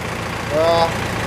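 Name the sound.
Mahindra Bolero diesel engine idling after cold start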